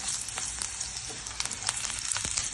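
Ginger sautés in a pan on a stovetop while palak paneer is being made, giving a continuous close sizzle and crackle with a few soft stirring scrapes.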